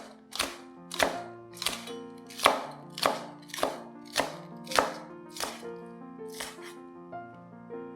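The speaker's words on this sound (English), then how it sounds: "Then cut the green parts of the spring onion into about 1 to 2 inch lengths." A knife chops the green parts of a spring onion into short lengths on a board, about a dozen crisp, evenly spaced strokes close up and alone, slowing slightly toward the end.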